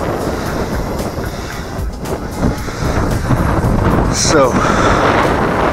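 Wind buffets a Parrot Bebop drone in flight, making a loud, continuous broadband rushing roar with gusty swells, and a voice is briefly heard over it.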